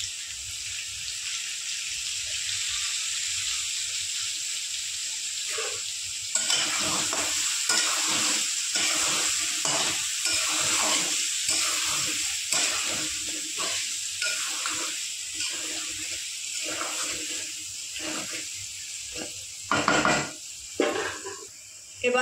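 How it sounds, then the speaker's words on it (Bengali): Potato pieces fry lightly in oil for a Bengali chicken curry, with a steady sizzle and a run of rhythmic scraping stirs through most of the stretch. A few louder clatters sound near the end, and no one speaks. "প্রথমে আলুটা হালকা ভেজে নেব"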